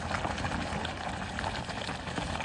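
Quicklime slaking in water: dense, steady bubbling and hissing like a vigorous boil, continuous and close throughout with no pauses.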